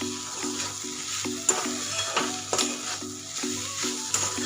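Peanut powder being mixed into a grated bitter gourd stir-fry in a pan, with repeated scraping stir strokes over a steady sizzle and a low hum, close, no voices.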